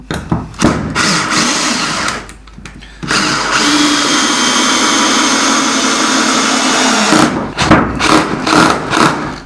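A cordless electric drill set to torque 15 drives a screw, its whirring motor running in short bursts, then a sustained spin of several seconds before the clutch slips, followed by more quick bursts.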